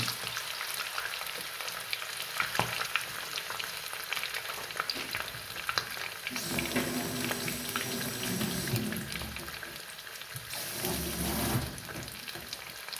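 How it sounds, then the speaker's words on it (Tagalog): Bangus milkfish fries in a pan with a dense, continuous sizzle and crackle, loud and close, with swells of stronger spitting oil throughout and no one speaking. "I-prito natin yung bangos"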